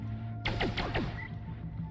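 Fireworks going off in the video game Noita: a quick burst of four or five rapid descending whistling pops in sequence, fading into a soft crackle over a low steady background hum.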